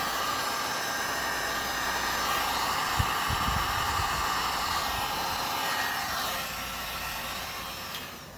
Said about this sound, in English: now we're going to blow it around a little. Lift the heat again.